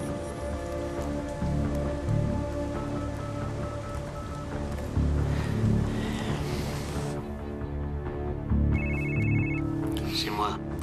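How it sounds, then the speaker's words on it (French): A telephone rings in a French film scene, a repeated electronic trill standing out over a dense background of music and noise, with voices talking around it. "Votre téléphone."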